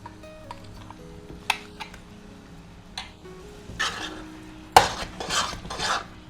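A spoon stirs chickpea masala gravy in a pan, giving soft scraping and irregular clinks and knocks against the metal, quiet and close with brief louder strikes toward the end.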